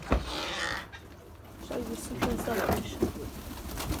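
Pigeons or doves kept by a grandfather in a rooftop coop give soft coos and wing flutters amid rustling, while people talk nearby.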